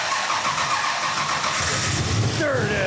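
Plymouth Cuda V8 cranking and catching, a loud close engine churn that rises into a rough rev near the end, with a voice partly over it.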